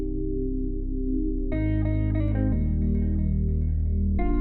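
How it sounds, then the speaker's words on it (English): Delay is added to an Afrobeat drum loop from the UJAM Kaya plugin in C minor, which plays on its own with booming low tones, ringing tuned percussion and repeating echoes that change pitch over a few seconds. "And then also we add some delay."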